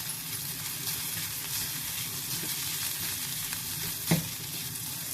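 Onion and ginger-garlic paste sauté in a pan for a paneer and green tomato bhurji, giving a steady, close frying sizzle throughout with a brief soft clatter of stirring near the end.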